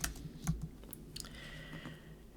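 Quiet computer keyboard typing, a handful of soft irregular key clicks over about two seconds, close by with no talk.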